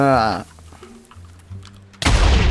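A voice speaks over low rumbling Minecraft game sounds, then a sudden loud booming blast of a cannon firing erupts at the end.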